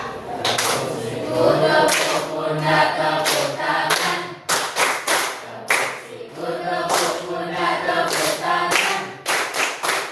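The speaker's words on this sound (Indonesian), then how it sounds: "Tepuk siku, pundak, tangan. Tangan siku, pundak, tepuk siku, tepuk pundak, tepuk tangan." A group of students plays a rhythmic clapping game, tapping elbows, shoulders and hands in a repeating pattern of sharp claps and taps, with chanted voices throughout in a classroom setting.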